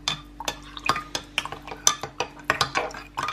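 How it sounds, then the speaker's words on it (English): Yeast mixture being stirred in a bowl, a quick run of rhythmic scraping and clinking strokes of a utensil against the bowl, close and distinct, with no one talking. "so I stirred this together quite well"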